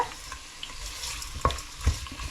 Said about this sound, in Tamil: எண்ணெயோடு அப்படியே ஃப்ரை பண்ணுறேன் பாருங்கள்.